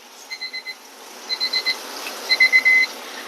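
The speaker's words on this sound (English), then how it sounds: "I like to use my timer too" Kitchen timer alarm sounding while Korean short ribs braise: three bursts of bright, rapid electronic beeping, each a quick run of four chirps, with the last burst holding into a longer tone, fairly close and loud over faint room hiss.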